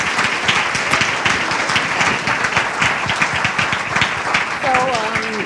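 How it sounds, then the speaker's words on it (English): Audience applause for a speaker at a health care and economy event, a dense steady wash of many hands clapping close by, with voices talking over it near the end. "Let's give him a round of applause"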